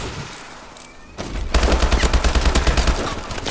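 Rapid automatic gunfire in the video game Black Ops 3, an LMG-style burst that starts after a brief lull and continues as a loud, dense, sustained rattle of shots.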